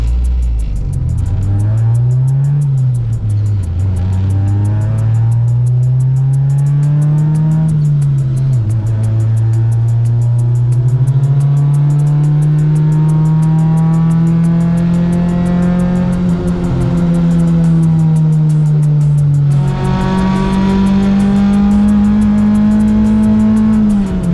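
Car lapping a race track at The Ridge Motorsports Park, its engine droning loudly and close through long rising gear pulls with brief dips at each shift, continuous for the whole stretch.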